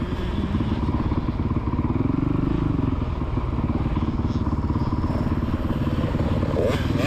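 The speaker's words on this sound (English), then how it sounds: "That's it, right, rev it up now. Come on, keep your revs on." Motocross dirt bike engines running on the Astley MX main track, a loud, continuous rough drone with a slight pitch swell partway through.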